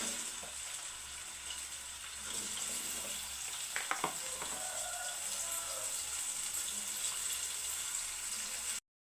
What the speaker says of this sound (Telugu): ఇప్పుడు వీటిని కూడా అలానే వేయించి తీసుకోవాలి.